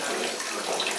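Water splashing steadily onto money held in a basket in Kamakura, Japan, a continuous close hiss of pouring liquid with no talk.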